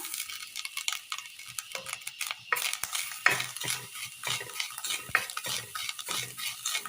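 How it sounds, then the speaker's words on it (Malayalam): A spatula scrapes and stirs grated coconut repeatedly in a hot pan, with rhythmic metallic strokes and a faint sizzle underneath. "ചട്ടി വെച്ച് കൊടുത്ത് ചൂടായി വരുമ്പോൾ അതിലേക്ക് തേങ്ങ തിരുമിയത് ഇട്ട് കൊടുക്കാം"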